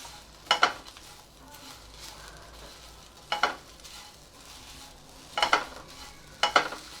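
Curry leaves and coriander being dry-stir-fried in a pan for chutney, a soft constant frying hiss broken by four or five sharp spatula scrapes against the metal at irregular intervals, close and quiet.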